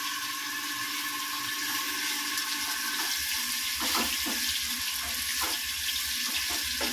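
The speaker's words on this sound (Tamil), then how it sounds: "போட்டு தண்ணி ஊற்றிடலாம்." Water pours steadily into a cooking pot after salt has been added, a continuous rushing splash that lasts the whole stretch, with a few faint clinks near the end.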